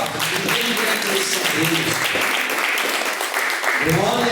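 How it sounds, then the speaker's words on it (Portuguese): Congregation applause rises during a church service, steady clapping with voices speaking and calling out over it throughout. "palmas"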